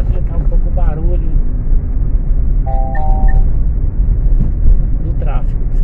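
Car rolling along a rural highway in Minas Gerais with the window slightly open, a loud steady rumble of engine and wind throughout, while someone talks over it and a few tonal beeps sound briefly.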